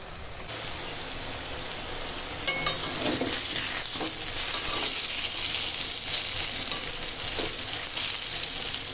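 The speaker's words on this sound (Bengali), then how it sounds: "এদিকে এখন পটল ভাজছি" Steady, dense sizzling of pointed gourd frying in a hot pan, with occasional stirring scrapes, close and loud throughout.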